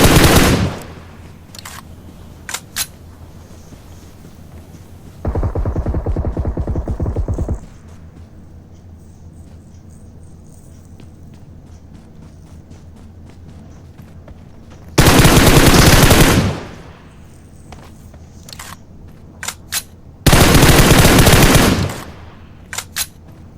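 Bursts of machine gun fire from a shooter video game, several loud sustained volleys of rapid shots separated by quieter gaps with scattered single shots.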